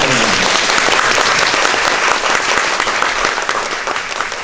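Loud, sustained applause from a theater audience at a stage greeting after a performance of the play Deathtrap, dense clapping filling the whole stretch without a break.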